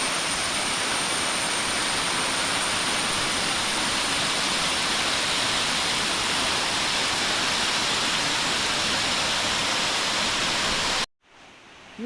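A waterfall near a rocky cliff in Kottayam roars as a dense, steady wash of rushing water, loud and unbroken for about eleven seconds before cutting off abruptly.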